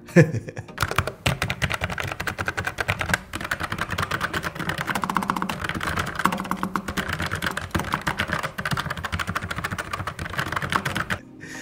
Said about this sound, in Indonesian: kalau ngetik malam-malam pas sepi masih terdengar khas ngetik mekanikalnya